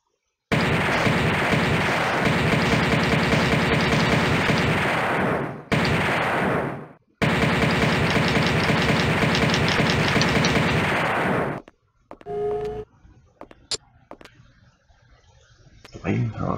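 Dense, continuous gunfire from the PlayStation game Alien Trilogy, loud and sustained for about eleven seconds with a brief break, then giving way to scattered quieter game effects and a voice.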